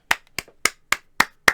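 Six sharp hand claps at an even, unhurried pace, close and crisp, each one ringing briefly into silence.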